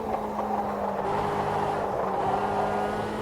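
A race car engine in the racing game Automobilista 2 drones steadily with a buzzing, harmonic tone, throttle held fairly even, close and loud throughout with no talking.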